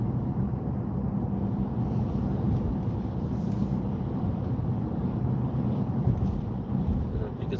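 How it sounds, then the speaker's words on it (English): Strong wind blowing snow sideways outdoors, a constant loud low roar buffeting the microphone without let-up. "I don't know if you can see the wind blowing, but it's blowing the snow sideways"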